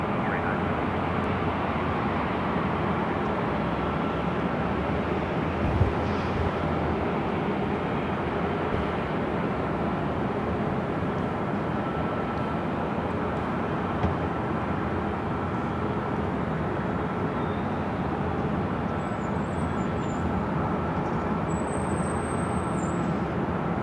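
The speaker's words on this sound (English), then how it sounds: "the Delta A350-900 heading to Atlanta already" A Delta Airbus A350-900 departs runway 24 Left at LAX, its jet engines producing a sustained, even roar across the full duration, loud and unbroken, with faint higher-pitched whines briefly above it late on.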